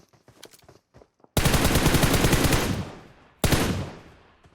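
Automatic gunfire in PUBG Mobile, heard close and loud: a long rapid burst lasting about two seconds, then a second short burst, after a few faint taps.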